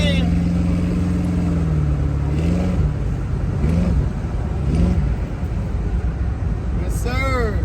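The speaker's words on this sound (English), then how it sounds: "We're out here in traffic, man, in the 72 Convertible Impala LS3 swap." A 1972 Impala convertible with an LS3 engine swap idles in traffic with a deep, steady rumble, while voices talk over it and other vehicles pass nearby.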